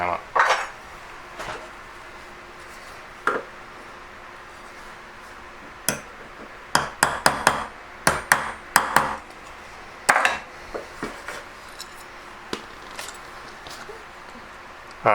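A hammer strikes a metal punch while forming a small claw collet, giving sharp bright metallic taps, single blows and quick clusters, close up over a quiet room.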